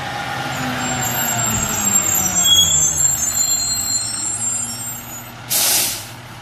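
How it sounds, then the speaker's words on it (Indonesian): Green, white and orange garbage truck idling with a steady low engine rumble, a high whine along the top and a short burst of air-brake hiss near the end. "Wih, di sini ada truk sampah teman-teman."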